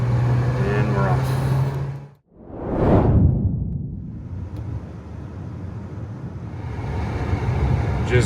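Road noise from a car driving out of a small reserve town in Manitoba's Parkland Region, a steady rumble with a vehicle whooshing past midway and a brief voice early on.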